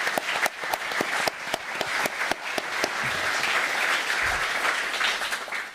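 Audience applause at a women's basketball coach introduction event, steady crowd clapping with sharp individual claps standing out near and far, at moderate loudness and without speech.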